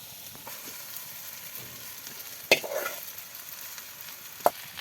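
Boiled potatoes being stir-fried in a cooked spice mix give a soft, continuous sizzle, broken by two sharp scrapes or knocks of the stirring utensil, close up with no voices.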